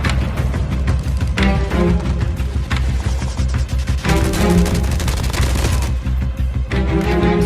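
Gunfire in the Call of Duty Mobile battle royale game, loud rapid bursts of automatic shots in fast rhythmic volleys with short gaps between them.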